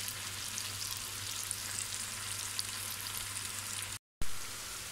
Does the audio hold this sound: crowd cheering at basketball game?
no